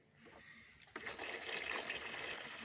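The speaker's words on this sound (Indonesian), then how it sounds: "setelah rata kita tuangkan lagi" Liquid soap mixture being poured during homemade dish soap making, a soft steady trickle that swells into a fuller stream partway through, faint and close.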